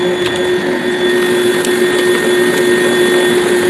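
A KitchenAid stand mixer with its lid on creams butter and sugar, its motor whirring in a loud, steady high-pitched hum with the beater churning under it and no talk.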